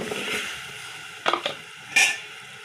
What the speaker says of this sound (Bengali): আলুগুলো নাড়িয়ে করে নেব